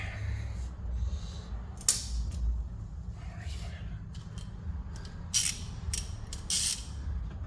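Under the hood of a 2017 Dodge Ram 1500, a ratchet tightening a brake line fitting gives a few short, sharp metallic clicks over a low steady rumble, spaced irregularly across several seconds.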